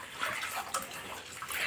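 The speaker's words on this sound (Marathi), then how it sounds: "इथं पिळायचं गाळायचं काम चालू आहे" Water splashes and sloshes as freshly ground wheat flour is squeezed and strained by hand for making kurdai, giving close, continuous wet swishing and trickling.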